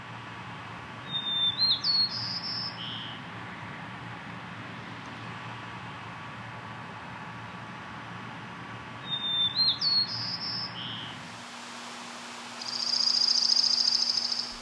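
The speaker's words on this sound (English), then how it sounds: "A preening and singing white-crowned sparrow." A white-crowned sparrow in Anchorage, Alaska, sings two clear whistled phrases several seconds apart, fairly close over a soft background hum, followed by a brief higher buzzy trill.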